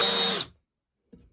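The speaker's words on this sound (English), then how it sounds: "I'm just going to countersink it so that the plane doesn't catch." A power drill drives a countersink bit into a wood hole for a hand plane holder, giving a short, loud, high whine that lasts about half a second and then cuts to silence.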